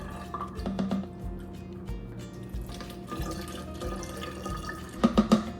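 Liquid spills and drips into a sink while a homemade horse fly spray is mixed, a splashy trickle with scattered drips, moderately close, louder bursts near the end.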